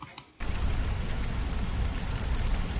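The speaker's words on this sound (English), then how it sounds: "Oh, it's raining." Steady, dense rain hiss sets in after a brief quiet moment and continues evenly throughout, filling the space with a constant wash.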